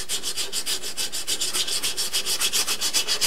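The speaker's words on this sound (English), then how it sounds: "this is a rigid piece of sandpaper made from 100 grit" Rigid 100-grit sandpaper grinds Bondo filler on a model Ohio-class submarine hull, producing close, fast, steady back-and-forth rasping strokes in an even rhythm with no voices.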